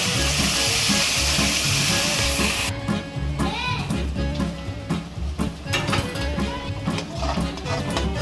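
A blended paste of tomato, onion, ginger and green chillies frying in a pan for a paneer dish, giving a continuous loud sizzle with crackles and faint clinks of stirring throughout.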